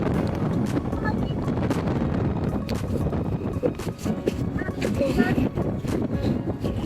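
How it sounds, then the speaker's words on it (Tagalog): Strong wind buffets the microphone at Hell Valley (Jigokudani), a volcanic geothermal valley in Noboribetsu, as a steady roaring rumble with gusty surges across the whole stretch. "Ang lakas ng hangin dito guys."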